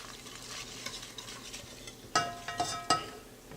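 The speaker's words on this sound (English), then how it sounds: "make sure you constantly stirring this" A utensil stirs seasonings, including Cajun seasoning, around a pan of sauce: a soft, faint sizzle runs throughout, with a few sharper scrapes and clinks against the pan near the end.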